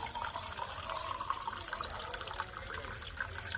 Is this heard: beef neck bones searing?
no